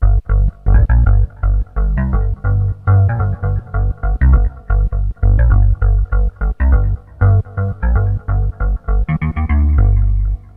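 A vintage synthesizer with a gritty, electric-guitar- or bass-like tone plays a busy run of loud, plucked notes, repeating steadily and rhythmically with tape echo and no talk over it.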